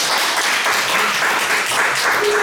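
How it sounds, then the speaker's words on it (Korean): Steady applause from an audience at a Korean leadership lecture on the AI era, a dense wash of clapping hands held at an even level for a couple of seconds with no one speaking over it. "박수 한번 주세요."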